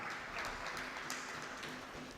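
A seated audience at a Hindu religious discourse claps together, a soft, steady patter of many hands at moderate distance, lasting a couple of seconds without a break.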